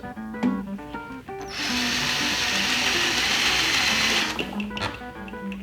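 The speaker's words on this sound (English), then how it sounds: "We're gonna run this drill bit on that center punch." A power drill whines and grinds steadily for a few seconds, its bit boring out a metal rivet at a center punch mark during a gas piston install, with a rhythmic mechanical hum before and after.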